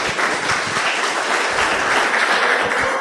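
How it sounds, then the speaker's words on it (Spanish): A church congregation applauds together in a sustained, dense burst of clapping that fills the space evenly from start to finish, loud and close, with no clear speech over it. "Denle un aplauso al Señor."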